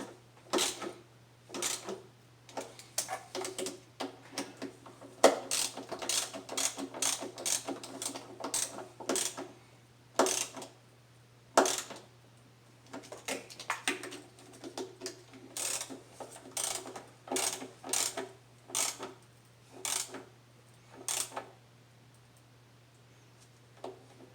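Rapid clicking bursts of a socket ratchet tightening plastic throttle body screws on a 2008 Dodge Charger, close and crisp in irregular runs over a steady low hum.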